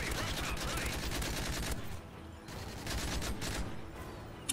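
Heavy automatic gunfire in Call of Duty Modern Warfare 3 Spec Ops, sustained loud bursts that drop briefly and then return, with voices faintly present.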